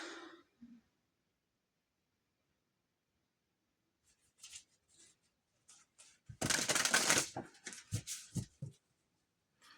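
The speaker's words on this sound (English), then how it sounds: "I'm going to pull some cards and I'm going to see what comes through." Tarot cards being shuffled by hand, quiet at first, then a dense burst of riffling and slapping card noise followed by a few softer taps and shuffles, close up with no talk.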